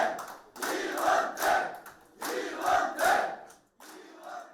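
A crowd of supporters cheers in bursts at a Korean election campaign office as the candidate's win is confirmed. The shouts are loud and close and come in several waves with short pauses between them.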